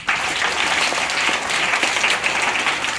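A crowd at a gathering applauds a woman with steady, dense clapping that stays loud and even throughout, with no pauses and no talk over it.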